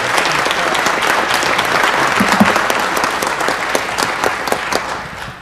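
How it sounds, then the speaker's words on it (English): Strong, sustained applause comes from an audience at a community event with the mayor, a close, dense clatter of many hands that holds steady and then tapers off at the end. "before we give them a round of applause"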